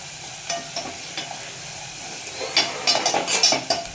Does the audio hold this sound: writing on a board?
no